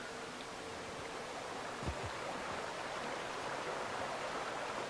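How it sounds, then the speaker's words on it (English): Steady rushing water from a stream in The Outer Worlds video game, a faint continuous hiss with no talk over it and one brief low thump partway through. "Looks like water."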